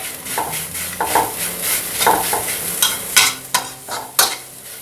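Homemade pounded Thai curry paste stir-fried in a pan for chicken khua kling, a steady sizzle punctuated by sharp scrapes and clinks of a metal spatula against the pan, close-up and irregular in rhythm.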